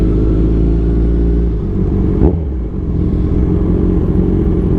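Loud motorcycle engines idle and rumble close by at a group thanksgiving ride featuring Kawasaki Z1000R bikes, with a brief revving swell midway before settling back to a steady drone.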